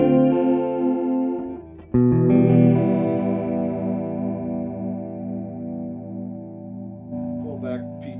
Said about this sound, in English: I like to get kind of a chorusing sound out of this